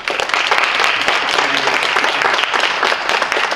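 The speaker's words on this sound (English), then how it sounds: "So I would call for actually another round of applause for the work that you do as teachers" A university audience applauding language teachers, with dense, continuous clapping from many hands that stays loud and full from start to finish and has no voices over it.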